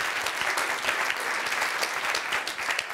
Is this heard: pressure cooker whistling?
no